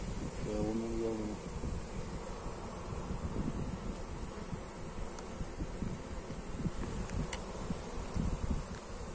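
A honeybee swarm hums softly around a previously empty hive in an apiary, a faint continuous buzz mixed with wind and light rustling, while someone speaks briefly near the start.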